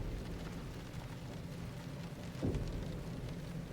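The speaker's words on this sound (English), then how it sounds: "the plink of the rain hitting the metal bed of the truck" Rain in the Silent Hill 2 remake patters and hisses on the metal bed of a truck, with a dull low thud partway through; no voices.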